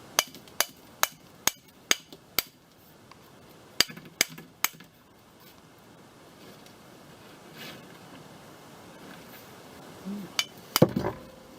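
A clamp fitted with sandpaper worked against the cover of a GE 2-phase condenser fan motor. A series of sharp, close metallic clicks and taps comes in uneven bursts, then soft rustling and a final cluster of clunks.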